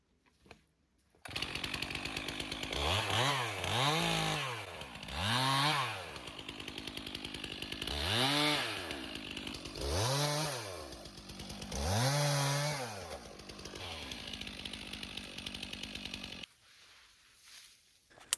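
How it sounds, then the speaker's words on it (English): A chainsaw runs steadily and loudly for about fifteen seconds, revving up and down in repeated surges as it cuts wood in a gully for an analog beaver dam, then cuts off abruptly into near silence. "Instead, we're going to use the old-fashioned chainsaw method."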